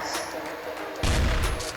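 Gunfire from the ActualGuns mod in the Minecraft video game, a faint start followed by a sudden louder burst of shots near the end.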